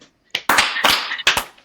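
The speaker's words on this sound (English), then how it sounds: "Can we get 2 claps, y'all?" An arena wrestling crowd at a WWE Monday Night Raw show answers with a few loud, sharp group claps in quick succession, separated by short silences.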